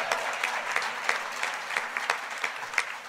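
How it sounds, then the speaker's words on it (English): An audience claps at a political speech on a Labor Party election win, a dense, lively applause with sharp individual claps popping out at an even pace, fairly close and continuous throughout. "It's all right, you can clap."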